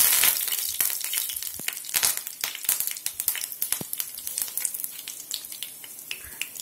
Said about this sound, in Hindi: तड़का देने के लिए मैंने तेल लिया है, कड़ी पत्ता, राई और हरी मिर्ची से तड़का दिया है।